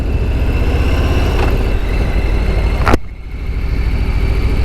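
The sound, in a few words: Harley-Davidson Softail Standard motorcycle riding, engine running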